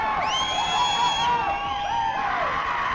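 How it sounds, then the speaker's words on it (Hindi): A crowd cheers and whoops at a kabaddi match in the Yuva Kabaddi Series, with high shrill shouts and screams rising and falling over a dense roar for a few seconds, loud and continuous. "ये चीयरिंग देखिए"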